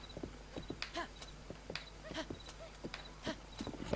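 Horse hooves clip-clopping as a rider travels in Zelda Breath of the Wild on Wii U, an uneven run of sharp, close knocks with short gaps between them, fairly quiet overall.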